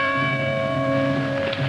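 Church bells toll for a death in an old French film scene, a sustained resonant ringing with long overlapping hum tones, loud and steady for a short moment without speech.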